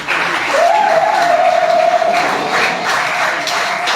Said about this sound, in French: ils sont un peu applaudis pour eux